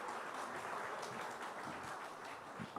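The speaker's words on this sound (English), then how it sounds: "So a huge round of applause" Audience applause at the NDTV IND.AI Summit, a large AI conference event in India: steady, dense clapping from a big crowd, sustained and even throughout, heard at a distance in a large hall.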